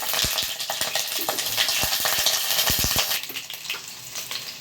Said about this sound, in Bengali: এবার আমি আমার এই কেটে এবং ধুয়ে রাখা পটলগুলো ছেড়ে দিচ্ছি।